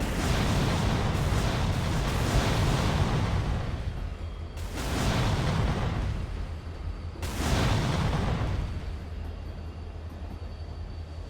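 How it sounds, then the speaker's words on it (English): In a Roblox game, a passenger train smashes into a tanker train and explodes: three heavy booming blasts, each starting abruptly and fading into rumbling, with no talk. "The passenger train hit tanker train, and it explodes."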